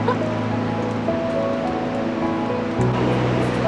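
A huge waterfall in Argentina roars in a steady, dense wash of rushing water, loud and continuous throughout with no pauses.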